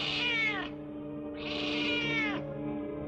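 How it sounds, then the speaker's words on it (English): Two drawn-out cat meows, each rising then falling, close and clear with a pause between them, over a low steady hum and no talking. "That cat gives me the willies."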